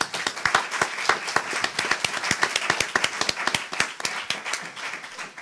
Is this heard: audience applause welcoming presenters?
yes